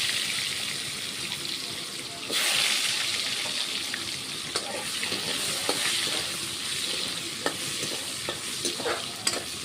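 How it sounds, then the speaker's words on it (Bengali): Potato pieces fry in hot oil in a pan before going into a spicy pabda fish curry with eggplant. A steady, fairly loud sizzle runs throughout, broken by scattered clinks and scrapes of stirring. "এই যে আলুটা ভেজে নিচ্ছি"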